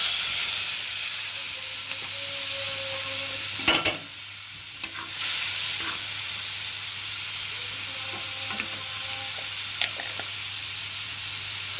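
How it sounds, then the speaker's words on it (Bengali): Prawns frying in a pan with salt, a steady bright sizzle and hiss throughout, with a few brief clinks and stirring bumps of a utensil against the pan. "এই যে চিংড়ি মাছটাকে ভালো করে ভেজে নেব।"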